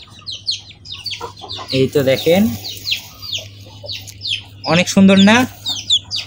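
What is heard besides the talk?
Polish cap chickens clucking and chirping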